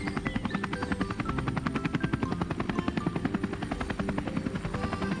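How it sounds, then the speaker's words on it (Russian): A cartoon helicopter flies close by, its rotor blades thudding in a fast steady rhythm over a loud engine whine. "Смотрите, вертолет летит!"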